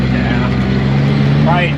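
A rough-running tractor pulls a tillage tool with a loud, steady low engine drone and some grinding, while people talk over it.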